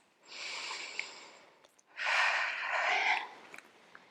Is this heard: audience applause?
no